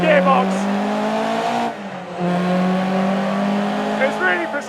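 Mk1 Ford Escort with a torquey engine and bullet 4-speed gearbox, driven flat out: a loud, continuous engine note with a steady pitch, briefly dipping in level around a gear change, then pulling strongly again.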